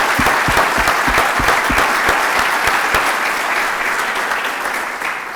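A lecture audience in Portugal gives a round of applause, a loud, dense clapping with a few distinct near claps standing out early, fading slightly toward the end.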